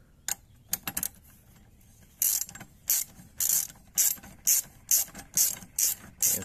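A ratchet tightens the original nuts on the seat brackets inside a Ford Ranger: quick, close ratcheting clicks, first scattered, then in a steady run of rhythmic bursts.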